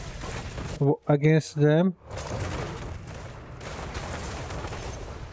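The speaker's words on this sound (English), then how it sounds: "I've thrown a bomb there" A thrown bomb in the game Diablo Immortal bursts into a broad, rushing explosion that lingers for several seconds; someone talks briefly just before it goes off.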